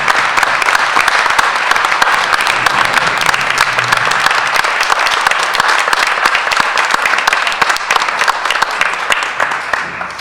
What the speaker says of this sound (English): So one big round of applause for the families of our Students of the Month.